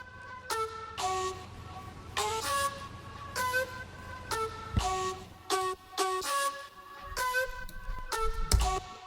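A flute doubled by a synth lead plays one melody as short, bright, stabbing notes in an even rhythm, clear and upfront in an electronic mix.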